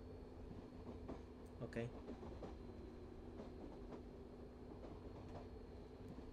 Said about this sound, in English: driving some Spanish trains, and, well, Spanish high-speed trains, I should say